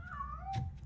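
A cat in the RoboCop: Rogue City video game gives one drawn-out meow with a falling tone, moderately loud, with a short burst of game noise near its end.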